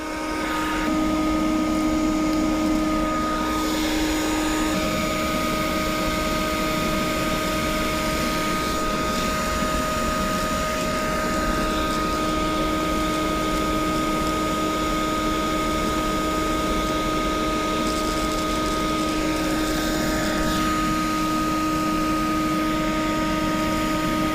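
A vacuum cleaner sucks up a yellow jacket nest with a loud, continuous, whining roar that holds steady for the whole stretch, with small shifts in pitch.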